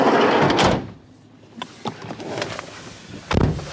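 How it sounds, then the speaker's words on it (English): Doors of a Nissan eNV200 Evalia 40kWh electric van shut, one heavy slam at the start, then softer clunks and rattles, a second solid thump near the end, outdoors with wind. "So let's just shut the doors."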